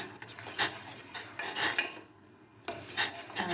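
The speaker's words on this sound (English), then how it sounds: "So we are shimmering it with occasional stirring." A spoon stirs simmering herbal tea in a pot over a low flame, with quiet, close scraping strokes in an uneven rhythm and a brief pause in the middle.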